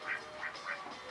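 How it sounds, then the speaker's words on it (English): Several ducks quack near a porch outdoors, three or four short nasal calls in an uneven rhythm, close by and moderately loud, with no talking over them. "And my ducks are hanging out now too."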